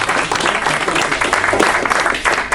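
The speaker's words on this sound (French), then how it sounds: "Je pense qu'on peut l'applaudir." An audience at a club meeting bursts into applause, a dense, fairly loud wash of clapping that holds steady for a couple of seconds.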